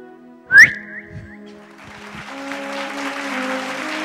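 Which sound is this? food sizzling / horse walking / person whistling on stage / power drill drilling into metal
person whistling on stage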